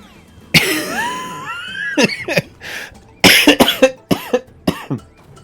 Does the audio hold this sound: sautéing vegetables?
no